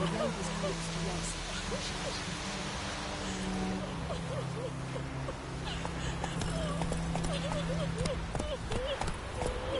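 Roach, the horse in The Witcher 3, trots with a steady clip-clop of hooves beneath a constant layer of background game ambience and music.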